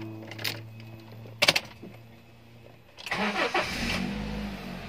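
Toyota Avanza engine idling while warming up in a garage, with a couple of sharp knocks before the engine settles into a louder, steady idle rumble, nearby, without talk.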